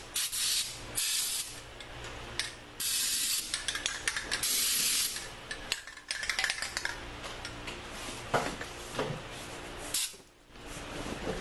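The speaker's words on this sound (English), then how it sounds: "spraying some lubricant, WD-40, whatever I can find." WD-40 lubricant sprayed onto the suspension joints and bushings of a 2004 GMC Yukon Denali, heard as several loud close hissing bursts of varying length separated by short pauses, with faint clinks and handling noise between.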